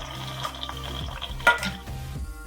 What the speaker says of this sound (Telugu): చక్కగా ఇలా తిప్పుకుంటూ దీన్ని అయితే పచ్చి వాసన పోయేంత వరకు అయితే వేయించుకుందామండి